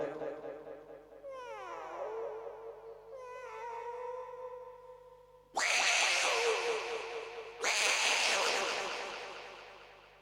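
A voice imitates two cats fighting, with drawn-out yowling meows that build into harsh, loud screeching bursts.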